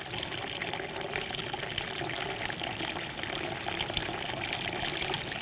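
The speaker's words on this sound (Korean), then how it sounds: "저는 맑은 물 붓기라고 표현하고 싶습니다. 한번 부어보겠습니다." Clear water pouring in a steady, unbroken rush, with a continuous splashing hiss that stays fairly even and close throughout, no voices.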